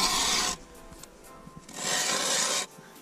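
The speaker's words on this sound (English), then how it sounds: "It takes only a minute to drill a hole." An ice auger bores down through snow and ice outdoors in Canada, giving two long, loud grinding rasps separated by a short pause filled with quieter scraping.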